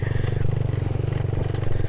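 A Satria FU motorcycle is ridden off-road at dusk, its engine giving a close, steady pulsing drone with rattling clatter throughout.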